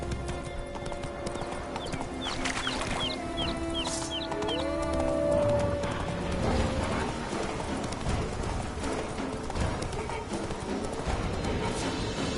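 Roach, the horse in The Witcher 3 video game, clip-clops along in a steady trotting rhythm, hooves close and continuous over faint background birds and a brief whinny.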